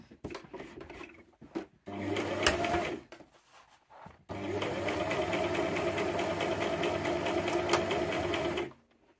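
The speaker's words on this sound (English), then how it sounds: "we're ready just to start sewing down this nice long edge" A sewing machine runs a long continuous line of stitches down the long edge of a fabric scrunchie, starting with a short burst, a brief pause, then a steady close-up whir that stops abruptly at the end.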